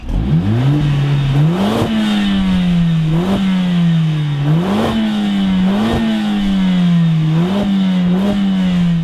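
A 2020 Mercedes-AMG A45 S with 421 hp accelerates hard in a straight line, its engine note climbing loud and close through repeated rises, each followed by a short dip at the gear change.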